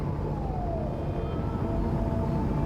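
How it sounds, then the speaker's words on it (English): Emergency sirens wailing from an observatory in the video game Life is Strange: Reunion, a steady continuous wail with a faint rising and falling tone over low background rumble, without speech. "There are sirens coming from the observatory."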